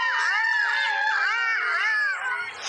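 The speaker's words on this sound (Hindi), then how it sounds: "तभी शमशान में दो लोमड़ी जोर जोर से चिल्लाने लगते हैं।" Two foxes howl loudly at a cremation ground at night, with overlapping wavering, rising and falling wails that run continuously and fade slightly at the end.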